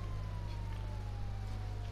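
Police siren in GTA 5, a continuous wailing tone heard from a distance, steady and moderately faint over a constant low engine drone.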